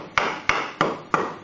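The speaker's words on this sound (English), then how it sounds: "Okay, so then you gotta hammer this side too." A hammer smacks a Nerf Masterkey part four times in a steady rhythm, each blow sharp and close with a short ringing decay, no talking.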